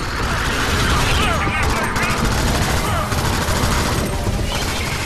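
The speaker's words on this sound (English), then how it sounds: "Don't walk right into my gunfire." Rapid gunfire and explosions from the top-down shooter Alien Swarm: Reactive Drop, a dense, continuous barrage of shots and blasts filling the whole stretch at close range, with faint voice-like sounds mixed in.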